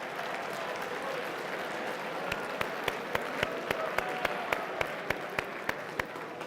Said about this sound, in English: I want you to give yourselves a great round of applause